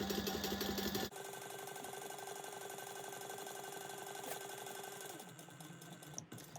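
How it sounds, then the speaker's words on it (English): Sewing machine top stitching fabric for a bag at 1/8 inch, a quiet steady mechanical whir running continuously for several seconds after a brief louder start. "Then you go ahead and again top stitch this at 1/8 of an inch."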